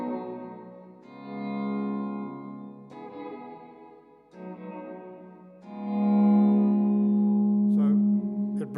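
Sustained guitar chords run through a Cuvave reverb pedal with auto swell, decay turned down and mix turned up, each chord fading in smoothly and ringing out over several seconds before the next.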